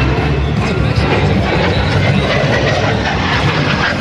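A loud, continuous roar of a small MS760 aircraft's twin Turbomeca Marboré jet engines close by, steady and unbroken throughout.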